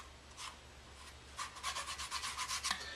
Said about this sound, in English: You just take your finger and rub it in.